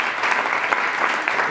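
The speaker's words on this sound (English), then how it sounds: "we should give Arnaud a big round of applause" A small audience at a product meetup claps for a presenter, a brisk, fairly close burst of applause with a few individual claps standing out and faint voices underneath.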